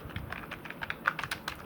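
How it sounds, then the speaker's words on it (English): Rapid keystrokes on a computer keyboard while typing an email subject, a close, quiet run of light irregular clicks with no talking. "Here type the subject that an email contains."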